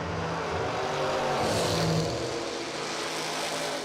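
A Camaro and an Opel GT at a footbrake drag race, engines roaring and revving from a distance in a broad, steady rumble that swells slightly midway.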